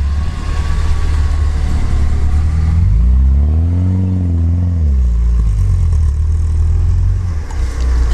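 A Lada Niva 4x4 engine revs hard while climbing a rough off-road hill, a loud, close, continuous drone that rises and falls in pitch as the throttle is pushed, with clattering underneath.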